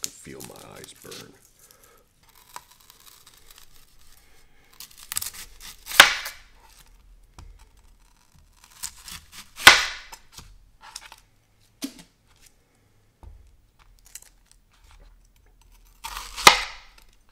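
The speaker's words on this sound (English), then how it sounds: "So first I got to cut up all these onions." Knife cutting up onions in a home kitchen for French onion soup, a few sharp isolated chops with pauses between them, fairly close, with no talk over them.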